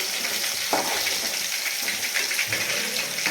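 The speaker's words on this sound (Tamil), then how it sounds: "இதே மாதிரி இருக்கிற இறாலையும் நம்ம பொரிச்சு எடுத்துடலாம்" Prawns deep-fry in hot oil for prawn biryani, making a continuous close bubbling sizzle with small crackles throughout.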